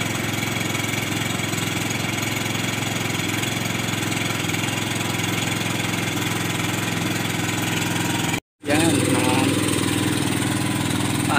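The engine of an irrigation water pump runs steadily and loudly up close, a continuous mechanical drone that cuts out for an instant and then carries on.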